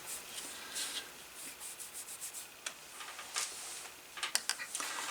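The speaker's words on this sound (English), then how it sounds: "I'm kind of rubbing that light brown in," Soft, faint rubbing of light brown dye into a leather closure strap for a 1936 Luger holster, a quiet irregular scrubbing with small scratchy ticks, heard alone.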